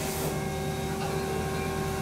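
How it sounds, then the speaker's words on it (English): An automated machine tapping threaded holes in bicycle parts at a TerraCycle factory station gives off a steady, close mechanical whir with sustained tonal hum throughout and no talking. "just going to tap the holes"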